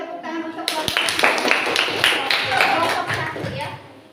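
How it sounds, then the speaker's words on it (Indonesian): Classroom group clapping for a student team during a coaching session, a brief burst of distinct hand claps at close range with voices of children and adults mixed in, fading out near the end. "Berikan tepuk tangan untuk kelompok"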